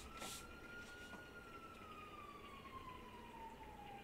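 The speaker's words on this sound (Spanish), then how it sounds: "pues se escucha la sirena." A faint, distant siren wails with a slowly falling pitch as it passes, over low traffic rumble.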